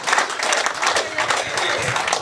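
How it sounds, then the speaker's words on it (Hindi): An audience at a Haryanvi poetry recital claps together, a brisk, fairly loud burst of applause from a seated crowd that keeps a steady, busy texture for a couple of seconds. "ताली बजानी हो बजाओ"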